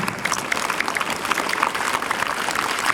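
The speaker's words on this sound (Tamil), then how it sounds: "அப்படிப்பட்ட மாணவர்களுக்கு கைதட்டல் கொடுக்கணும்ல" Steady applause from the audience at a school Independence Day event greets the students, a dense patter of many hands clapping evenly for several seconds with no voices over it.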